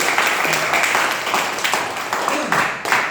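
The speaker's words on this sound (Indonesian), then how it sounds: "tepuk tangan buat semuanya" A crowd at a training event claps together in a dense patter of applause that slowly tapers, with voices speaking over it.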